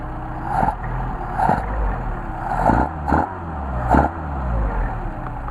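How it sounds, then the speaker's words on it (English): Mercedes 190SL engine with Solex carburetors hot-restarting and idling, a steady close-up rumble punctuated by four or five rhythmic throttle blips, with no talk. "Let's try a hot start."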